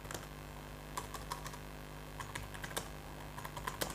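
Typing on a computer keyboard while writing a string manipulation program, scattered quick key clicks in short bursts, faint and close over a low steady background hum.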